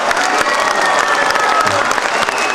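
Loud, dense applause from a crowd at an evening event honouring a Neapolitan singer, with cheering and scattered shouts mixed into the sustained clapping.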